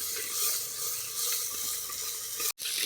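Onions being stirred while frying in a clay pot give a dense, bright sizzle with scraping stir strokes. It runs nonstop for nearly three seconds before a brief cut near the end.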